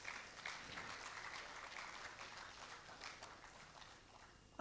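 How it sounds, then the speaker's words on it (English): Faint, steady clapping from an audience at the opening ceremony of an engineering week held by the Nigerian Society of Engineers in Abuja, sounding distant and continuous before a brief louder knock at the end. "Please give him another round of applause"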